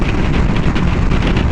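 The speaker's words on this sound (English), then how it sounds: "Wind is not too bad." Steady wind rushing past while riding across a long bridge in the Florida Keys, heard as a loud, constant roar and buffeting against the microphone, with no talk.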